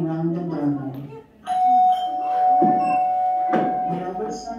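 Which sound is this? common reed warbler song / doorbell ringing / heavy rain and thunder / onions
doorbell ringing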